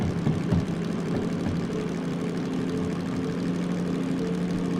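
Locomotive engine in the Derail Valley train simulator, a steady low diesel drone with a droning hum held evenly throughout, fairly quiet and with no talk over it.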